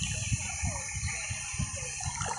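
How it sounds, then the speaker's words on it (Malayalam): A dinosaur drinks water in the survival game The Isle, making a string of soft, rhythmic lapping and gulping pulses over a quiet watery background, with no talking. "ഇവിടെ നിന്ന് നമുക്ക് ഫസ്റ്റ് ഒന്ന് വെള്ളം കുടിക്കാം"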